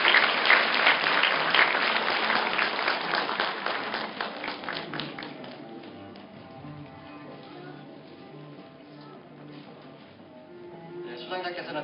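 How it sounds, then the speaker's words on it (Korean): An audience at a university graduation ceremony breaks into loud, brisk applause that fades over several seconds, leaving a quieter hall with faint voices and movement. "큰 박수로 축하해 주시기 바랍니다"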